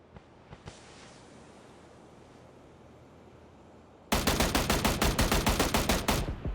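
Rapid bursts of M16 rifle fire in a PUBG match, loud and close, a steady rhythmic string of shots filling the last two seconds after a stretch of quiet ambient background.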